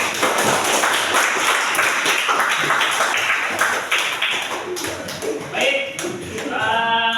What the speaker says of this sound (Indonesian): Tepuk tangan dulu untuk semua kelompok.